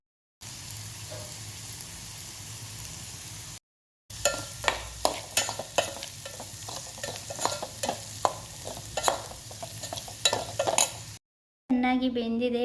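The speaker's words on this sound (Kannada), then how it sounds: "ಇದಕ್ಕೆ ಉಪ್ಪಾಕಿ ಸ್ವಲ್ಪ ಮಿಕ್ಸ್ ಮಾಡಿ." Vegetable stuffing with salt being stirred in a pan, a spoon scraping and clinking against the metal in an irregular rhythm over a soft sizzle, close up with no talking.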